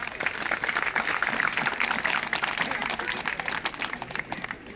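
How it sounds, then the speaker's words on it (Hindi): A crowd at a wedding-vows gathering breaks into applause, dense sustained clapping from many hands that fills the whole stretch, loud and nearby. "अगर ये मंजूर है तो भाई लोग ताली बजा दें।"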